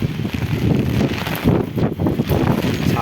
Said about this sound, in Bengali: বৃষ্টি হচ্ছে, ঝড় হচ্ছে